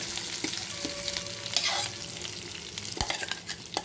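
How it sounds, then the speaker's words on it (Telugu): Ground tomato-mint chutney goes into a pan of tempering with the stove off and is stirred. A spoon scrapes and clatters in uneven bursts over a soft residual sizzle, with no talking. "ఇప్పుడు మిక్సీ పట్టుకున్న చట్నీని ఇలా దీంట్లో వేసేస్తుంది."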